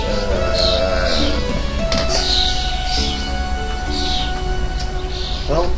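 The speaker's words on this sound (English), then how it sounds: "there's some really loud birds outside" Several birds chirp and call repeatedly over a steady background hum, with bright high tweets scattered throughout and faint low tones underneath.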